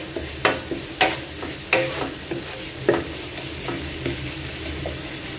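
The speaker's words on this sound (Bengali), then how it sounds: "পেঁয়াজটা একটু ভাজা হোক" Onions frying in a pan for an egg dish, a low continuous sizzle broken by sharp, irregular clacks and scrapes of a spatula against the pan, about eight distinct strokes, close and without any voice.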